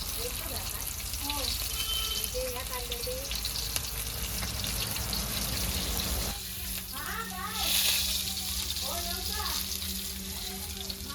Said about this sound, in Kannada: ಪಾಪ್ಲೆಟ್ ಫ್ರೈ ಆಗ್ತಾ ಇದೆ